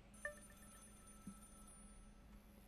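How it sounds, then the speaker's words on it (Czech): A telephone bell rings in the video game Contraband Police, with two brief, faint rings a second apart over a low steady hum and no one talking. "Mě rozptiluje ten zvonek toho telefonu."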